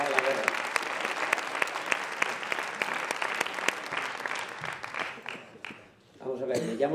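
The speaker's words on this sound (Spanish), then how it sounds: "un aplauso para Antonio." Audience applause at a Fuckup Nights storytelling event, a dense, steady clapping crowd that fades out near the end before a voice begins speaking.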